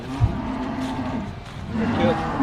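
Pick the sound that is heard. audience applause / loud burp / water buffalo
water buffalo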